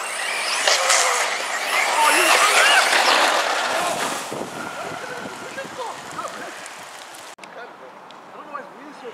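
Traxxas Slash and Traxxas E-Revo RC cars race outdoors, a loud whining, rushing roar of motors and tires that fades as they move away, with people talking nearby.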